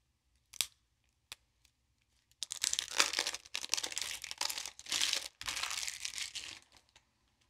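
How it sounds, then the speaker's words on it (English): Plastic wrapping being torn and crinkled off new board game card decks, with a few sharp isolated rips first, then several seconds of continuous close crackling and tearing, fairly quiet with no talk. "So I'm going to break open the cards."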